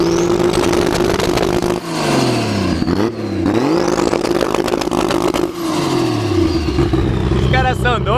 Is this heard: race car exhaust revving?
yes